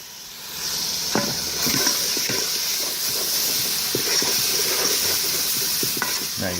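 Cold milk poured into a hot pan for white gravy hisses and sizzles steadily, a constant frying hiss with light stirring scrapes throughout.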